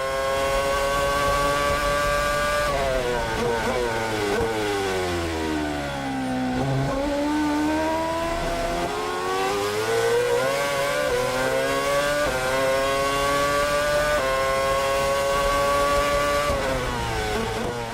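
Formula 1 cars racing at the 2011 Canadian Grand Prix in wet conditions, high-pitched engines screaming continuously with pitch dropping and climbing through gear changes and braking, loud and sustained throughout.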